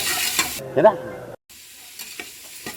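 Onions frying in a pan for kadlekalu usli after dried red chillies go in, with stirring scrapes and a soft sizzle, busy at first, then a brief silent gap and a quieter, sparser stretch of pan sounds.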